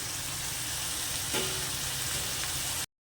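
Malabar spinach curry fries with spices in a pan, giving a soft, even sizzle with a faint stirring clink midway, quiet and uninterrupted for about three seconds before it cuts off.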